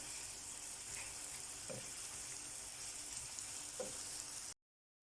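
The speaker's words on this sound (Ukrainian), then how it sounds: "І смажимо до м'якості цибулі." Onions sizzle softly and steadily in a hot pan, with a couple of faint stirring scrapes, before the sound cuts off.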